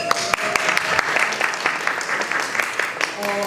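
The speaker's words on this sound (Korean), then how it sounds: "큰 박수와 함께 청해보겠습니다" Applause from the audience at a rainy-day outdoor wedding, continuous clapping lasting the whole moment, with voices and speech mixed in over it.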